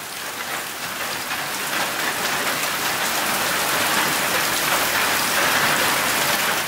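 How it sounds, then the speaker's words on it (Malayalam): Heavy rain pours down steadily without a break, a loud, dense, even hiss of drops filling the whole stretch with no voices. "മഴ നിർത്താതെ തന്നെ പെയ്തുകൊണ്ടിരിക്കുകയാണ്"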